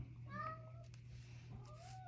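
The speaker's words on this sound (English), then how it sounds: "Oh, my cat found me." A house cat gives a couple of short, fairly quiet meows close by over a steady low hum, with no talking.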